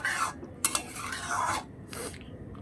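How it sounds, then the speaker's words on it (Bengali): A spoon stirs flat beans cooking in a covered pot of water with shrimp, giving a few short scraping and clinking passes against the pot with brief pauses between them. "এটাকে ভালো করে নাড়াচাড়া দিতে হবে।"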